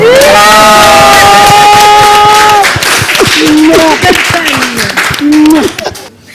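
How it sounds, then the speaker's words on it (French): Crowd at a stage show cheering loudly with whoops and sustained shouts, then clapping and excited cries that fade near the end, with voices calling out throughout. "on peut continuer d'applaudir"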